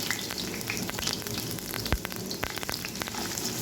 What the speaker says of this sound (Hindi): प्याज और लहसुन बहुत अच्छे से ब्राउन हो रहा है।